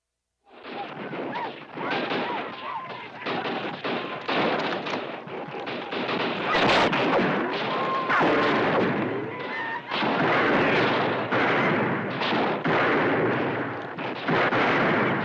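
Rapid gunfire in a Western shootout set around a small Idaho town, loud and continuous with overlapping shots and heavy booming reports throughout.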